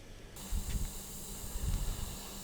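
A steady hiss of airbrushed primer sprays onto a 1/32 scale Bf109G-14 model part, starting abruptly and continuing close and even throughout, with soft low bumps beneath.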